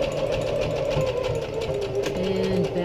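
A sewing machine stitches fabric for a face mask or medical gown, running at a steady, continuous whir with rhythmic needle clatter, close and fairly loud, with no voices.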